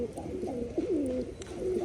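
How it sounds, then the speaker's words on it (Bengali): A male Rajshahi pigeon coos nearby in a flock, a repeated, rolling, wavering call, loud and close. "রাজশাহী নটটা সবসময় ডাকে, দেখুন ডেকেই বেড়াচ্ছে"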